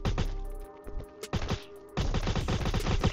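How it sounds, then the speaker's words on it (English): Rapid bursts of alien pistol fire in the mobile game Rocket Royale, a fast stream of punchy shots broken by short pauses, loud and close with no talking. "I heard like the alien pistol shooting"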